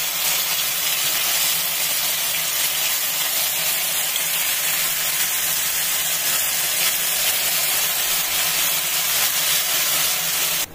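Rava (semolina) paniyaram batter sizzling in ghee in a paniyaram pan, a loud, steady, broadband hiss that holds unchanged throughout, with no talking.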